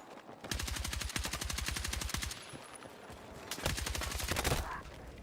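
Automatic gunfire from a low-recoil gun in Battlefield 6, two long rapid bursts of close, sharp shots separated by a short pause, with the second burst ending in heavier impacts.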